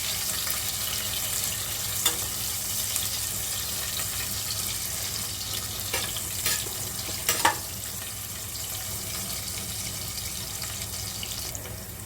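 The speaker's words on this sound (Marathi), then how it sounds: "आता यामध्ये कांदा चार मिरच्या आता ह्याला पारदर्शक होत भाजून द्यायचं" Chopped onion and four green chillies fry in a pan until translucent, giving a steady, close sizzle with a few faint clinks of a utensil along the way.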